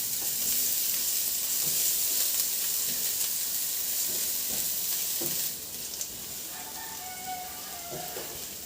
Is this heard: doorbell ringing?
no